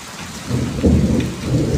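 A deep, heavy roll of thunder with lightning swells and rumbles through steady rain at Khadpoli, with no voices.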